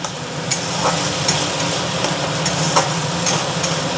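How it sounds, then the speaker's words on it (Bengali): Spice masala stir-fried in oil until the oil separates, for a Bengali fig (dumur) curry: continuous close sizzling with repeated spatula scrapes and knocks against the pan, no voices. "এটা যতক্ষণ না তেল ছাড়বে ততক্ষণ আমি এটাকে এইভাবেই কষে নেব"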